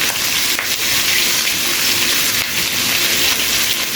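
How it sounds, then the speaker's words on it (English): Food browning in a pot on a stove turned down from heavy splattering, giving a steady, loud sizzle and crackle with continuous spattering throughout and no talking. "I've turned the stove down so get rid of some of that heavy splattering."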